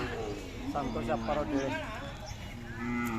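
Khillar bulls low at a village cattle fair during the Umadi yatra, the calls rising beneath steady nearby talk from people at the stalls.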